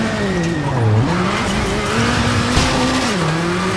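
Rally car in WRC 7 on a Monte Carlo stage braking hard for a hairpin, engine note dropping and tires squealing and skidding loudly, then the engine pulling back up, up close with no talk.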